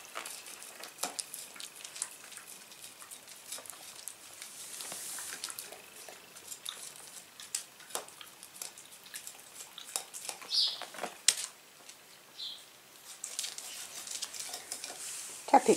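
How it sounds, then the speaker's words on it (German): Plates and cutlery clatter and scrape during a meal of leftovers, with scattered light clinks and taps, quiet and close, continuing in an irregular rhythm over a hushed background. "Bisschen Teller schieben."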